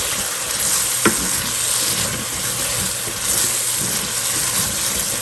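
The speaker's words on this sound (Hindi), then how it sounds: "ठीक है, तो अब इसको भूनते हैं।" Chicken and chana dal fry with garam masala in a pan, giving a continuous close sizzle and hiss with stirring scrapes and one sharp knock early on.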